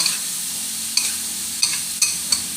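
Eggplant and minced pork stir-fry in a hot pan, a steady sizzling hiss broken by four or five sharp spatula scrapes at an uneven pace, close and fairly loud.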